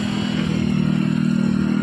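A motorcycle rides along a muddy, unpaved rural road made slippery by rain. Its engine drones loud, close and steady with a constant hum and a faint rattle underneath.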